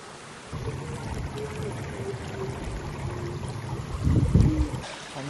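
Water flowing at the Ortega waterfall, a soft constant rush with a brief louder splashing burst near the end, fairly distant and steady, no voices.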